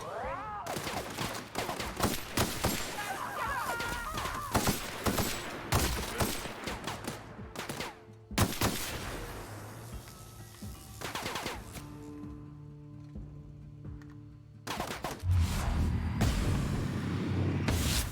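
Bursts of gunfire from The Outer Worlds ring out in uneven volleys of sharp, loud shots, then thin out into a quieter gap before another close round of firing near the end. Game sounds mix in, with no talking.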